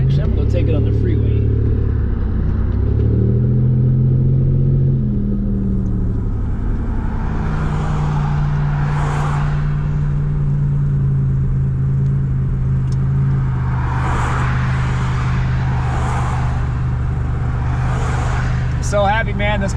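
A 1987 Buick Regal T Turbo cruising on the freeway, with loud steady engine and road drone inside the cabin, a tone that shifts early as it accelerates, and bursts of rushing noise from passing traffic or wind.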